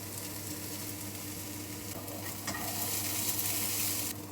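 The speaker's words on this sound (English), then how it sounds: "the onions have been sauteing for 5 minutes" Onions sauteing in a pan for about five minutes, giving a steady, close frying sizzle with stirring noises that grows a little louder and brighter toward the end.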